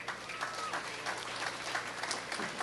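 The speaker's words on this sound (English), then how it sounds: "Let's give them a round of applause" Outdoor audience at a political picnic gathering clapping in steady, moderately distant applause for the whole stretch.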